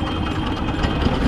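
A small engine driving a street sugarcane juice press in Bangladesh, its throttle worked by a foot rope, runs with a steady loud idling chug close by, with no talk.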